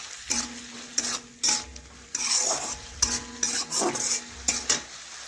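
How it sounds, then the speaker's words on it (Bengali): Mustard paste and tomato cooking down in a pan for a fish curry, with repeated short scrapes and clinks of a spatula over a low sizzle, in bursts separated by brief pauses. "আমি এইভাবে বেশ কিছুক্ষণ ধরে একটু নাড়াচাড়া করে টমেটো গলিয়ে নিলাম।"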